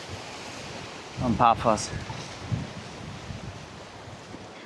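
Ocean surf on the coast at Paphos, Cyprus, makes a steady, rushing wash mixed with wind buffeting the microphone, while someone talks briefly over it.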